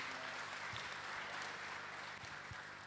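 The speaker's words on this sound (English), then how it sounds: "Please give them a round of applause." A crowd claps at a social history book launch in Wentworth, a fairly quiet, distant-sounding wash of applause that holds steady, with a few faint low knocks within it.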